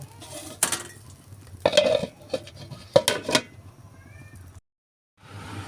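Malabar spinach being stirred in a pot, with a few bursts of clattering metal scrapes and knocks, then a brief pause before a final bit of noise.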